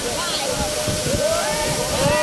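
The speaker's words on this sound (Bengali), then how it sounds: "ওই যে একদম উপর থেকে হচ্ছে পানি পড়তেছে নিচে" Steady rushing of a waterfall dropping from high above fills the scene, a continuous close roar with a person talking over it.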